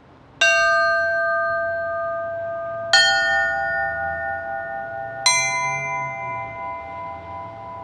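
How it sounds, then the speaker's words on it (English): Three small Orthodox church bells in the Holy Trinity Cathedral bell tower, San Francisco, struck one after another, each a bright clear strike followed by a long ringing decay, spaced a couple of seconds apart, with no voices. "this trio of small bells."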